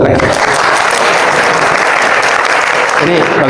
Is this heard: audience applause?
yes